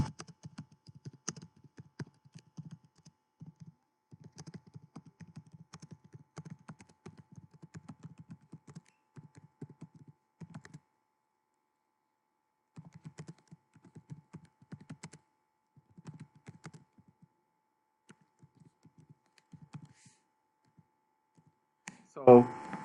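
Light tapping on a computer keyboard in quiet bursts of quick soft keystrokes with short gaps, faint and close, ending with a louder thump.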